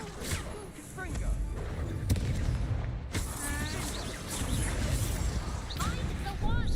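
A fire spell blasting in the Hogwarts Legacy video game, with booming impacts and crashing bursts over a rumbling, chaotic battle din and shouting voices.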